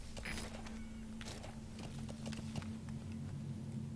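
Horse hooves thud in the video game Metal Gear Solid V: The Phantom Pain, a quiet, fast patter of footfalls under a steady low hum of game ambience.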